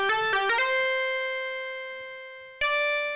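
CA2600 synth lead on the complex sync preset, bright and buzzy, plays a few quick notes then a long held tone that ends abruptly, followed by a sudden new sustained note, all clean and solo.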